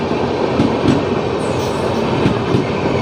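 The Gaya Kamakhya weekly express train rolls along the rails with a loud, steady rumble and faint rhythmic wheel clatter, heard close from on board.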